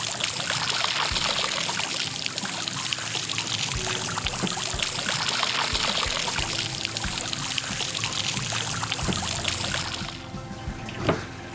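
Running water washes over the screw holes and masthead of a Waydoo Flyer ONE electric hydrofoil board, a steady close splashing pour lasting about ten seconds before it cuts off abruptly.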